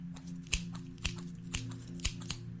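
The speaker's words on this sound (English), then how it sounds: "So I've got scissors in my hand" Five crisp scissor snips spaced about half a second apart, close to the microphone, over a steady low hum.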